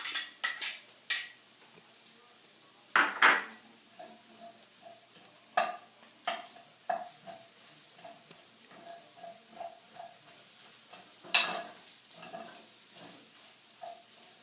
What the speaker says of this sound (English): I'm going to saute the onions in the chorizo